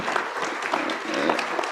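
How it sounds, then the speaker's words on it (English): Audience applause at a science, technology and innovation conference, a steady wash of many hands clapping together for the chairman, fairly close and continuous throughout. "let's applaud him."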